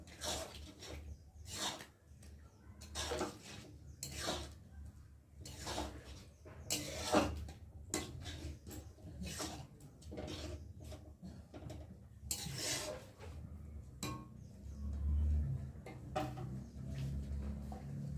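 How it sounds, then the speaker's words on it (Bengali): Spinach lentil dal with coriander powder being stirred in a pot, a steady run of scraping spoon strokes and light metal knocks against the pot, close and moderately loud, continuing without talk. "একটু ভালো করে নেড়ে দেবো"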